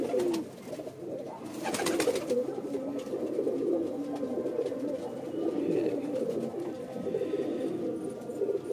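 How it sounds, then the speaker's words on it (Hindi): Pigeons coo in soft, repeated throaty burbles that overlap almost continuously, close and moderately loud, with a brief burst of rustling near the start. "ये भी एक कबूतर है"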